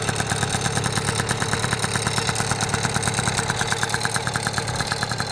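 Cold 1980 Honda NC50 two-stroke scooter with oil injection and a Tecnigas exhaust idling just after start-up, a steady close, buzzy putter with a fast, even pulse and no talking.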